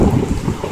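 Heavy rain from a thunderstorm pours down in a dense, loud wash with low rumbling underneath, a brief close burst with no voices.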